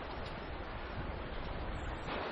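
Fast, deep River Tweed water swollen after hours of overnight rain rushes past a walking path in winter, a dense continuous roar with no voices.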